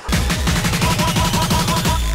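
Rapid airsoft gunfire from an ASG CZ SP-01 Shadow during a close-quarters CQB game, a loud steady stream of sharp snapping shots in quick rhythm throughout, with no one talking.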